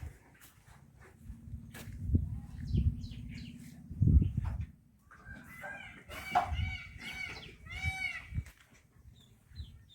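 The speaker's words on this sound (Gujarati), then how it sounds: "મોરલા બોલે" Peacocks call around village farmland near a hill in Gujarat. Several loud, nasal, repeated cries ring out in the second half over a low background rumble.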